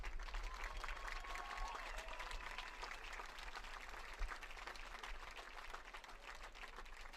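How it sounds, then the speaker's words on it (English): An audience at a softball awards ceremony applauds in a steady, fairly quiet wash of clapping that holds without pause, heard from some distance. "another round of applause"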